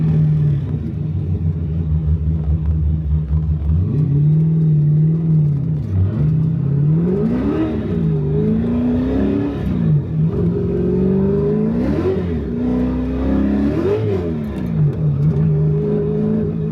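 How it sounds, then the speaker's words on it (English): A car with old tires pulls away and revs, its engine climbing and dropping in pitch over and over as the wheels lose grip, loud and close with a steady rumble underneath. "and the tires just started spinning."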